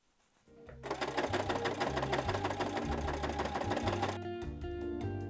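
A sewing machine stitching the straps of a polka dot bag starts after a quiet moment, runs in a fast, even, close-up mechanical whir for about three seconds, then slows and stops, with no voices.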